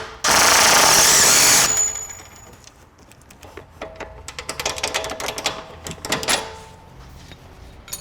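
A power tool, likely an impact wrench, removes a nut on a Tesla Model X subframe with a loud, sustained rattling burst, then falls to quieter metallic clinks and rattles of tool and parts.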